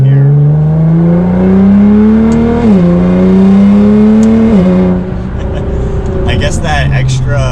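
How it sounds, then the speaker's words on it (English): A Nissan GT-R with its exhaust tips removed revs loud and close, its engine note climbing and dipping twice before settling into a rough idle with some background noise. "it actually sounds different with the exhaust tips off."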